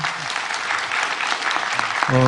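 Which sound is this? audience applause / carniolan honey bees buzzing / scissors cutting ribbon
audience applause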